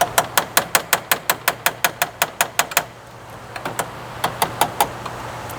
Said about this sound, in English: Let me get my trusty body hammer.